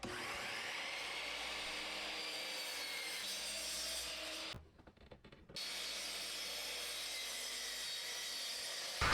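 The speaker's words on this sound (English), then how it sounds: "if you've got a pull-out miter saw, you can easily cut that" Plywood being cut with a saw, a continuous near whirring cut that runs steadily, drops to about a second of quiet midway, then resumes at the same level.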